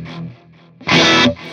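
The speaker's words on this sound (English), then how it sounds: "turn the delay on. And I'm gonna go stereo tape." Distorted electric guitar through a Fractal Axe-FX II XL plays a brief phrase, then a louder strummed chord rings out with a spacious stereo tape-delay echo trailing behind it.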